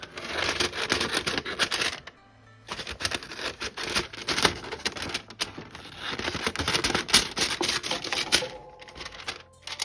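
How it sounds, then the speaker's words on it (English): Rapid, crisp snipping and crackling as scissors cut through a plastic junk mail envelope close by, a dense patter of cuts with one brief pause early on. "the sound of plastic might be very amplified on camera"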